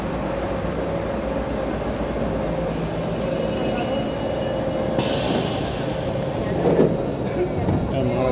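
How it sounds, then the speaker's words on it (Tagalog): A passing train makes a continuous rumble and rolling clatter close by, with a brief brighter screech partway through. "Meron ng train."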